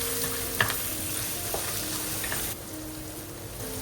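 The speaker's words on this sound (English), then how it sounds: "Using the same oil from the rendered bacon, we'll add the aromatics and saute for a couple minutes until fragrant" Aromatics sauteing in rendered bacon fat in a pan, a steady close sizzle and crackle with a few faint stirring clicks, no talking.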